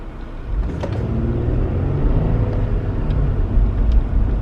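A car accelerating in drag mode with a Wind Booster fitted, giving a steady low engine rumble that builds gently over a few seconds, heard from inside the cabin without talk.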